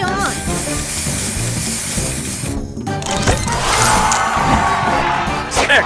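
A spray booster fires in the Match Masters mobile puzzle game, a loud sustained hissing spray burst layered over game music and effects, swelling in the second half.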